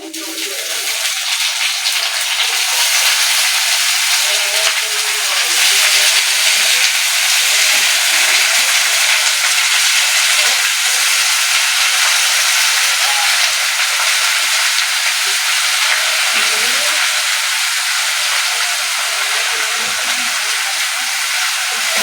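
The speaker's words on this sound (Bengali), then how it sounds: "নেড়ে চেড়ে ভেজে নিয়েছি" Water lily stems fry in a pan after onions and black cumin, giving a loud, steady, hissing sizzle that runs unbroken and close for the whole stretch with no talk.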